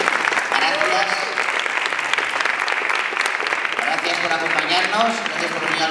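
Sustained audience applause for the cast of the series "Entre Tierras" at a festival presentation, steady and dense throughout with voices and cheers mixed into the clapping crowd.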